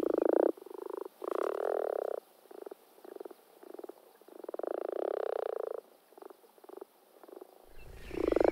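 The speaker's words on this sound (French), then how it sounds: "La grenouille rousse, par exemple, elle fait un ronronnement caractéristique quand elle est amoureuse." A common frog gives a low, rapid purring croak in repeated bursts of varying length, close and fairly loud against silence, with no voices.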